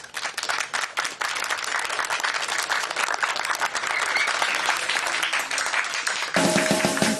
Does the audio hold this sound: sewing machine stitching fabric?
no